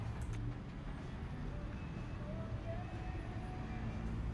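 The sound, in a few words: morning traffic on the Las Vegas Strip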